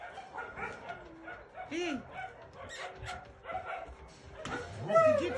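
Dogs yip, whimper and bark in short bursts at moderate distance outdoors while a person talks and calls out over them.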